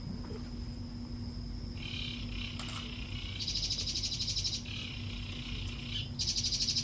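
In a stage play, a performer imitates the bird call of a red-breasted jibja in repeated rapid chirping bursts. A steady background hum runs underneath.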